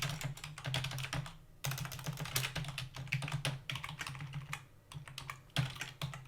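Rapid typing on a computer keyboard, a steady dense patter of key clicks with brief pauses between bursts, close and fairly quiet, with no voices.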